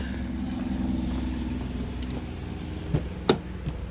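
A race-tuned Dodge SRT4 turbo car sits up on jack stands with its engine running, a steady, fairly quiet hum with a couple of brief knocks near the end.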